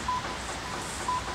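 A mobile phone plays dialing tones: two short, evenly pitched keypad beeps about a second apart, clear and close over a steady background hiss.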